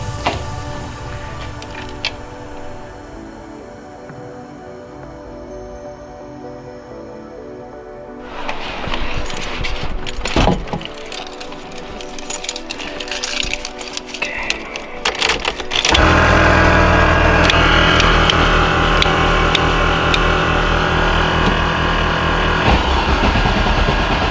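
An LS V8 swapped into a Nissan 350Z starts up: quiet rattles give way to rougher mechanical noise, then the engine catches and settles into a loud, steady, close idle for the final seconds.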